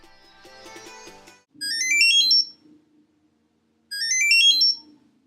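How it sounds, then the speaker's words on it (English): A Nonda AIKO rechargeable key finder plays its classical call tone ringtone, a bright rising electronic melodic phrase sounded twice with a pause between, clean and loud. "This is the classical call tone."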